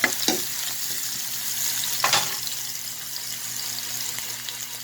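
Garlic and onion frying in a pan for fried fish, a soft steady sizzle with a couple of brief louder crackles as they are stirred, close and without talking.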